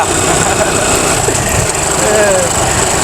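A small pocket bike engine runs loud and close, a steady high-pitched buzzing drone with faint rattle, voices talking over it.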